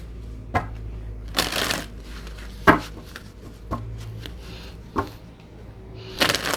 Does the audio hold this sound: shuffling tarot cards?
yes